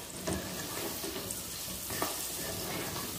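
Slices of calabresa sausage fry in hot bacon fat in a pan, giving a continuous, close, crackling sizzle that holds steady throughout.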